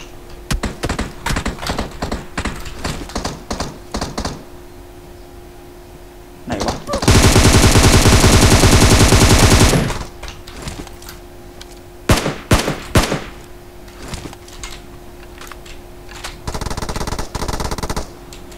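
Rapid bursts of gunfire in PUBG Mobile, with clusters of sharp shots early on, a sustained loud stretch of automatic fire in the middle, then scattered single shots and a final burst, all close and loud.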